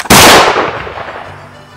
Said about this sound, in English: That concludes our demonstration of the firing of the Spanish musket